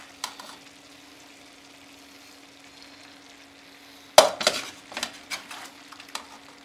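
Macaroni tumbles into a pan of minced meat. A faint steady hum holds for several seconds, then a sudden loud rattle bursts out, followed by a run of shorter rustling, clattering bursts.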